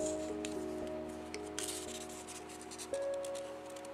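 Faint scratching as a tool scores a folding line into paper, traced around the edge of a template laid over the piece, with soft rubbing strokes and a quiet background hum.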